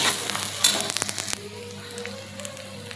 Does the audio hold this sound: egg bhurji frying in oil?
yes